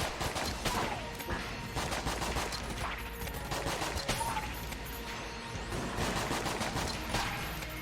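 Rapid gunfire from the video game Enter the Gungeon, including the SAA gun with double vision active, forms a dense, continuous barrage of overlapping shots alongside game effects, with no voice over it.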